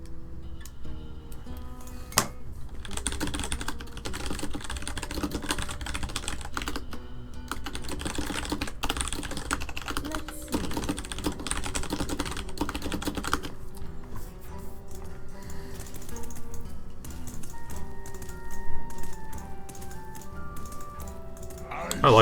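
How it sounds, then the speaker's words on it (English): Fast typing on a computer keyboard, a dense, steady clatter of key taps close by. It runs under light game music and chimes, with talk over it in places. "I like typing quickly. Typing quickly is super fun, man."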